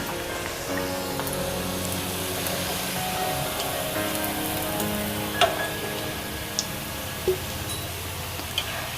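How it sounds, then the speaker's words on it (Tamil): Paneer potato balls deep frying in hot oil over a low flame give a steady, even sizzle throughout, with a few sharp pops and crackles near the end and no talking. "ஒரு லோ ஃப்ளேமில் வச்சு கொஞ்சம் டக்குன்னு பொரிச்சு எடுத்துங்க."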